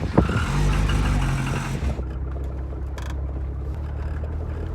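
A cold Cosworth car engine running close by, loud and throaty at first, then settling into a lumpier, quieter idle.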